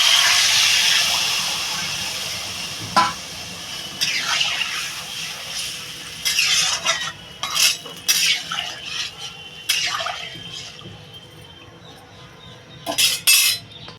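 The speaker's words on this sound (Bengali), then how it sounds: "আমি এবার পরিমাণ মতো জল দিয়ে দেবো" Water poured into a taro and egg curry pan, a rushing pour at first, then clinks and scrapes of a spoon stirring against the pot in short bursts, close and fairly loud.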